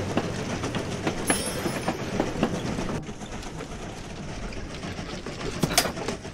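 A train runs steadily in the Trains VR game, a continuous rumbling roll with rhythmic clickety-clack wheel beats and a brief high squeal, no talking.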